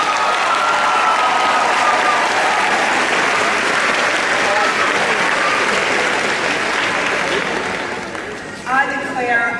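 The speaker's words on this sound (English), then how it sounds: "Please join me in applauding them." Big crowd at a university law school commencement ceremony applauds in a loud, dense, sustained wash of clapping that tapers off near the end as a voice begins over it.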